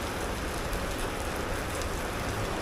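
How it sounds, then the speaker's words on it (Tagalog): Steady, heavy rain falls in a city street during a long downpour, a dense, even hiss with no voices. "Mukhang magtatagal ang ulan ngayon."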